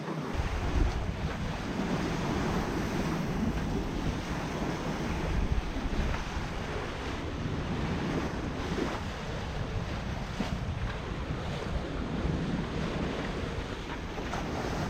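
Steady rush of wind and breaking waves around a Lagoon 46 catamaran under sail at sea with no engines running, a continuous loud wash of surf and wind noise on the microphone throughout, with no talking.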